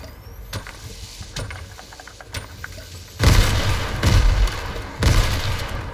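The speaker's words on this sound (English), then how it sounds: "throw some grenades in there to try and bomb" Grenade blasts in a shooter video game: several deep booming thumps, the loudest in a cluster of three heavy bursts in the second half, over a low background rumble.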